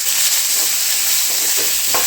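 Peas are tipped into a hot frying pan with sautéed coriander and stirred, giving a loud steady hiss of sizzling oil with faint scraping of the spoon, close and continuous, with no talking.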